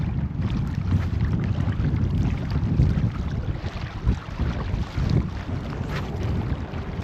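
Strong wind at Sweetwater Reservoir buffets the microphone in a loud, continuous low rumble, gusting unevenly, with faint water sounds beneath and no voices.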